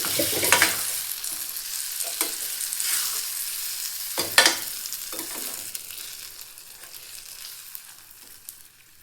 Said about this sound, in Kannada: ಅವಾಗಲೇ ಬೇಯಿಸಿಟ್ಕೊಂಡಿರೋಂಥ ಹೆಸರು ಕಾಳನ್ನ ಹಾಕತ್ತೀನಿ. ಮಿಕ್ಸ್ ಮಾಡ್ಕೊಳ್ಳೋಣ್ರಿ.